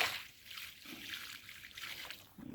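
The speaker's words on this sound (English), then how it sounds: "All right, let's give it some water." Water trickles and splashes steadily onto the soil around a newly planted tree at a dacha in Khabarovsk, Russia, a soft continuous outdoor pour that swells slightly in places.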